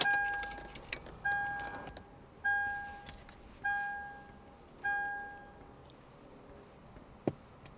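A 2001-2005 Lexus IS300 with the ignition on gives a series of about five evenly spaced ringing chimes, each decaying, with a key jingle and a click at the end.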